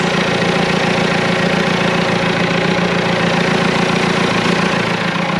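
A backhoe's diesel engine runs at a loud, steady idle throughout, with a continuous rumble and an even knocking chatter. It is heard alone with no voices.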